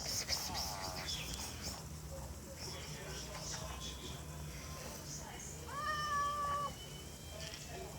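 A cat meowing close by while being offered fish, with several drawn-out meows and a clear, louder call near the end, heard over outdoor background noise and occasional talk.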